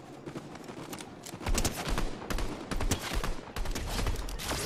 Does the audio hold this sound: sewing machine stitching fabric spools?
no